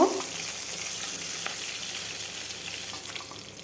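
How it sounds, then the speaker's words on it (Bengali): A hilsa fish head fries lightly in hot oil, giving a steady, close hiss of sizzling that fades slightly toward the end. "ইলিশ মাছের মাথা হালকাই ভাজবো"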